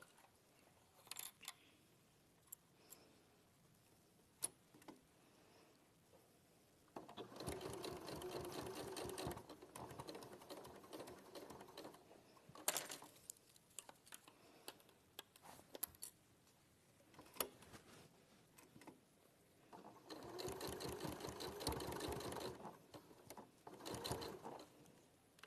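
Sewing machine stitching across the ends of a zipper: bursts of rapid mechanical needle chatter, one several seconds long and another later, separated by quieter clicks and handling, close and moderately loud.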